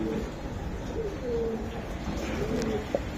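A racer pigeon coos in a few soft, low, drawn-out calls at close range against a quiet room background.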